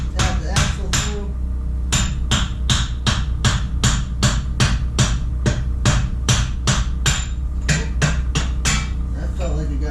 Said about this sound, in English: Tap the axle through.